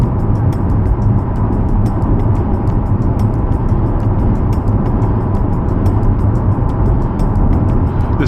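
A 2024 Corvette E-Ray hybrid with an 8-speed dual-clutch automatic cruising in sixth gear, a loud, steady engine and road drone heard from inside the cabin, even and unbroken throughout.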